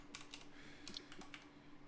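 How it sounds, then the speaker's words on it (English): Computer keyboard typing, a scattered run of soft, quick keystrokes with short pauses, faint and close, with no one talking. "Maybe I'll spin while I'm typing."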